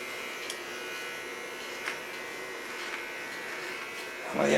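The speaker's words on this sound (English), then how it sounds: "Get to my small clipper again." A small electric hair clipper buzzes steadily and close while cutting hair in a salon, a continuous even drone with faint background noise and a brief louder rustle at the end.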